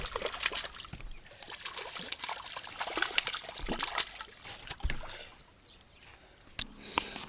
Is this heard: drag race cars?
no